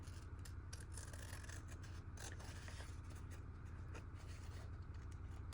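Scissors trimming a playing card make close, crisp snipping and sliding cuts in quick succession against a low background hum.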